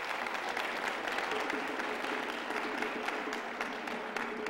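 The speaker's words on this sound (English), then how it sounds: "Give yourselves a round of applause." A community gathering applauds itself in a sustained, dense round of clapping from a large crowd, steady and moderately loud, with faint crowd murmur beneath.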